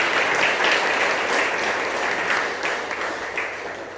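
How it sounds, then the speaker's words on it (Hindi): Loud, sustained applause from a church congregation at a Velankani Mata novena gathering, many hands clapping densely and evenly, fading slightly toward the end with no speech over it. "तो जोरदार तालियों से"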